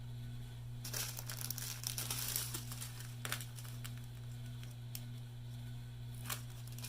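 A small plastic bag of diamond painting drills being opened and snipped: soft crinkling and rustling with a few crisp snips, close but quiet over a steady low electrical hum, with no talk.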